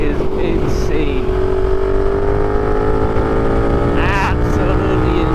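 A KTM 1290 Super Duke motorcycle's engine holds a loud, steady drone close by as it rides, its pitch rising slowly, with wind roar underneath and a brief voice partway through.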